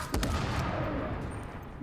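Dense, sustained gunfire from an automatic-weapon shootout against cleaner enemies in the video game The Division, with a sharp burst of shots up front and continuous loud firing throughout.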